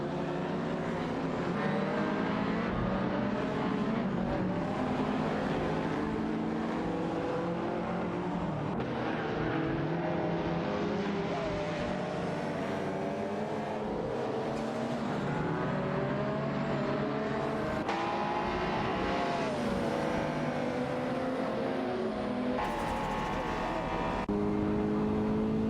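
Ferrari F40 LM race cars in a racing video game snarl continuously, several engines layered into a dense, steady roar with pitch rising and dropping through shifts, one car passing by close near the end.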